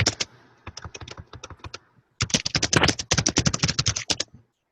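Someone types on a computer keyboard nearby, sharp rapid key clicks in two bursts separated by a short pause, the second burst denser and louder.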